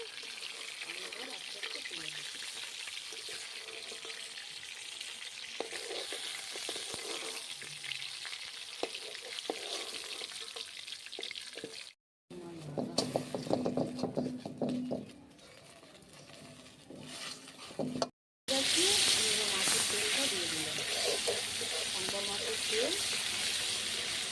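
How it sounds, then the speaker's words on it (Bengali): Pieces of shankar stingray sizzle and spit in hot oil in a pan as they are flipped, a continuous crackling hiss broken by scraping and stirring noises, with voices faintly present. "আমি এবার উল্টিয়ে দিচ্ছি মাছগুলো"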